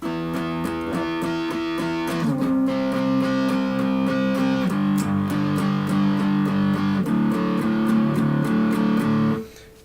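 An electric guitar with an effects unit plays a song's chord pattern, repeated sustained strums with a gritty, distorted edge that ring on steadily, with no voices, then cut off.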